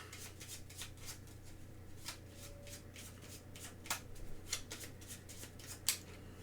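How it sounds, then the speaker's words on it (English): Deck of cards shuffled for the Parks board game, giving a quiet run of quick, crisp riffling flicks and snaps, close up, with a few sharper clicks near the end and no talking. "because I ran out of cards, I do have to shuffle"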